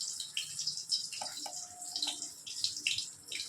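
Water poured into chili powder, both hot and Kashmiri chili powder, to mix a paste while cooking a sorputi fish curry; a steady close trickle of running water with faint clinks, no talking.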